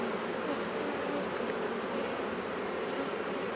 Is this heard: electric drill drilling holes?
no